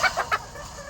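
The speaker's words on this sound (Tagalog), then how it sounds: "pakainin muna natin mga kalamanok natin" Farm chickens being fed cluck three times in quick succession, close and clear, in under a second.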